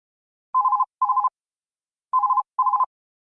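A telephone in an office rings in two double bursts, each pair a quick electronic trill, with a clear pause between the pairs and silence around them.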